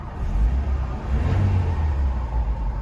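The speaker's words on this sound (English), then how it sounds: "Give it a little rev" A car engine revs up and holds a steady, loud low rumble after a Seafoam fuel and engine treatment, the idle rising and settling close by with no talking.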